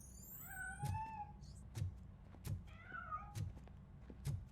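A video game cat meows twice in drawn-out, wavering calls, alongside a series of soft, regular thumps and a faint electronic background.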